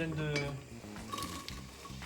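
Vegetables sautéing gently in olive oil in a pot for a pea risotto, a soft sizzle with a few clinks of a spoon stirring against the pan, brief and close.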